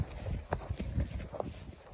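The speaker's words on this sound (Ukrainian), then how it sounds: "Ось такий жеребчик Бугас" A young stallion's hooves clip-clop in an uneven walking rhythm, several soft thuds over a low rumbling background, fairly close.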